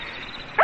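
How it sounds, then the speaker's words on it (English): Dogs barking in an old radio drama, a single short bark bursting in near the end after quiet background hiss, fairly close and with no talk. "What do you hear, Mayor? It's them dogs."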